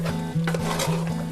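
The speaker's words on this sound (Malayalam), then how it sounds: "ഒന്ന് ചെറുതായിട്ടൊന്ന് ഇളക്കി കൊടുക്കാം" A spoon scrapes and clatters through Kerala-style pork roast curry in a pan, in steady repeated strokes with faint sizzling beneath, close and clear, with no talking.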